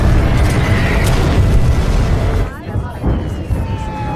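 Fighter jets bombard an area, and loud booming explosions roll together in a dense continuous rumble before the roar drops away into quieter crackling and a thin whine.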